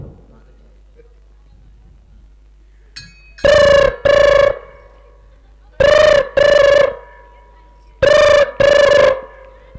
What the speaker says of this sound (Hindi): पहले थाने फोन लगाता हूँ।